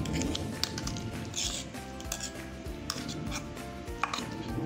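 Ground spice paste of green chilli and salt being mixed into a thick mixed-lentil ghavan batter in a bowl, producing repeated wet squishing and scraping strokes close up, with no talk.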